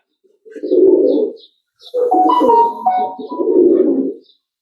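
Racing pigeons at a pigeon club coo close by in three soft, throaty bursts separated by short pauses, with faint chirps in the background.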